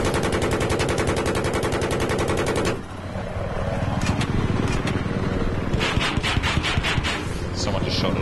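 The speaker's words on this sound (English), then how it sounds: "Someone just shot at us." Rapid automatic gunfire rattles in a video game firefight, a dense continuous burst for nearly three seconds, then more scattered bursts and engine-like rumble, with players talking over it.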